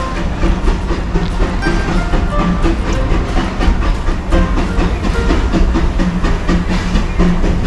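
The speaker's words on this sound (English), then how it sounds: "it's the train. Rolling through the Discoveryland station." A train rumbles through the Discoveryland station at Disneyland Paris with continuous rhythmic clatter and a soft hiss, loud and close throughout.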